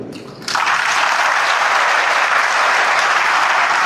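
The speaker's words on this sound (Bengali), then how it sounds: "আমরা সবাই একসাথে করতালির মাধ্যমে সবাইকে আমরা কংগ্রেচুলেট করতে পারি" Sustained audience applause at a student organization gathering, many hands clapping loudly and steadily after a quieter first half second, dense and continuous to the end.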